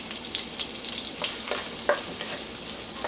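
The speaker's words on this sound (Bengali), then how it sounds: "পেঁয়াজটাকে হালকা ভেজে নিতে হবে" A cup of chopped onion fries lightly in hot oil for Bangladeshi chicken pilaf (morog polao), with a steady close sizzle and scattered sharp crackles and pops throughout, and no talking.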